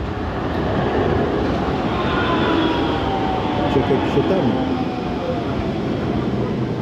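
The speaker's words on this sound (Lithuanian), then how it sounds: "O pro langą tramvajai važiuoja." A tram rumbles past outside a window in Rome with a low, rolling drone and a faint squeal, while a person speaks briefly nearby.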